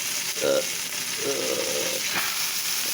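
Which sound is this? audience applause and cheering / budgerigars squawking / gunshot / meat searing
meat searing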